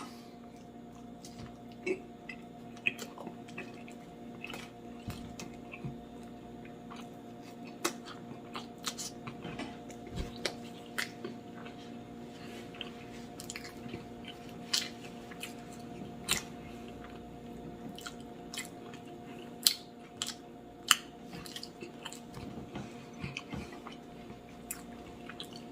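Someone eating a cheeseburger at close range, with soft, irregular chewing and wet mouth clicks running steadily over a low background hum, no talking.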